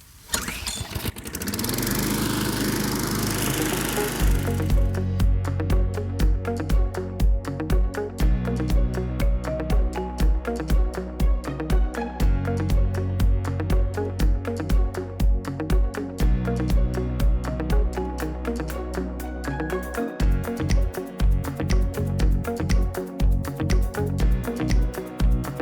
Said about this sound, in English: So I'm gonna take it and mow and just start going down this whole area, mulch it back in.